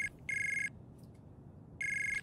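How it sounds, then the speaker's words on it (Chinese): A phone rings with an electronic tone in two bursts separated by a quiet gap, each ring a steady, warbling pulse indoors and fairly close. "你等我一下，我接个电话。"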